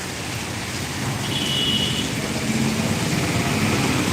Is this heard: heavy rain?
yes